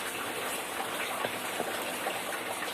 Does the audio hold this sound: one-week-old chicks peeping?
no